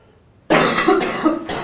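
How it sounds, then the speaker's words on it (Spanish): A single sharp cough bursts out after a moment of quiet, loud and close, trailing off into a breathy rasp. "esa tos forma parte de mi presente."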